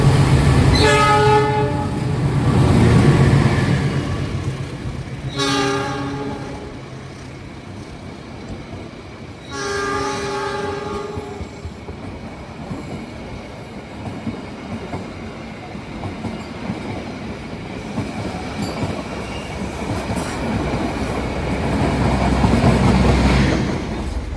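A train passes loudly with repeated horn blasts early on, then a long rumble of wheels and carriages rolling by, swelling near the end, at an Indonesian railway station.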